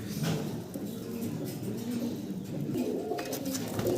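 Pigeons in a loft coo softly and repeatedly, low throaty calls overlapping at close to mid distance over faint background rustling.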